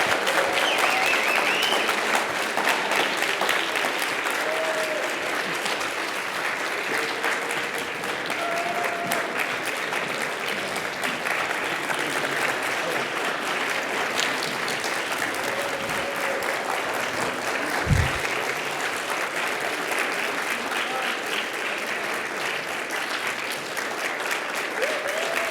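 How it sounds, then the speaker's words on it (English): Sustained audience applause for the finalists of a university research slam event in the Bay Area, a long even roar of many people clapping, with a few faint voices and whistles rising now and then above it. "We'll give them one more round of applause, and we'll take a photo."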